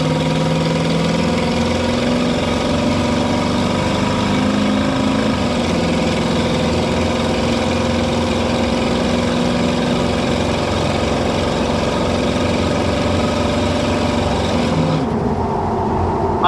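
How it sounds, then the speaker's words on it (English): A 1984 Chevrolet K10 4x4 pickup truck engine idles loudly and then revs, its deep exhaust drone holding steady before dropping back near the end, no talking. "Do another little pull here to hear the exhaust."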